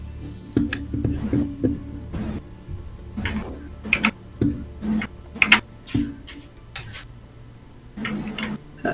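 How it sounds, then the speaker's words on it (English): A loud computer keyboard clatters in bursts of rapid clicking keystrokes, irregular in rhythm and close to the listener, with short pauses between runs and no talking over it. "That keyboard is so obnoxiously loud."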